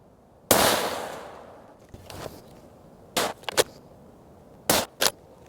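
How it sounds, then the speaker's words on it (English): Rifle shots from a rifle being zeroed with 130-grain bullets, with one sharp loud report followed by a long decaying echo, then a couple of fainter, shorter bangs and clanks spaced a second or two apart outdoors. "So take a couple shots, and then we'll go from there."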